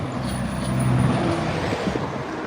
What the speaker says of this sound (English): so the traffic won't be too loud